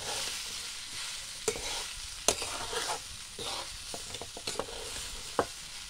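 Ground peanuts tipped into a pan of frying leftover bhakri chivda and stirred, a steady close sizzle with a few sharp scraping clicks of the spoon.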